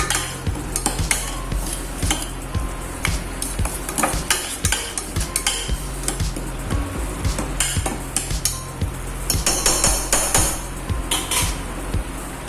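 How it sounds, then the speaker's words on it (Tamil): Tomato kuruma masala sautéed over a medium flame, with continuous rhythmic scraping and knocking of a ladle in the pan over a constant sizzle, close and busy throughout with no voices. "மீடியம் ஃப்ளேமில் வச்சு நல்லா வதக்கிக்கோங்க."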